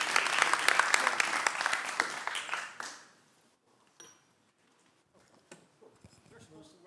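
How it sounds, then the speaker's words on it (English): Round of applause from a conference audience at a Postgres talk, loud dense clapping for about three seconds that fades out, followed by quiet room noise and scattered talk. "So welcome with a round of applause,"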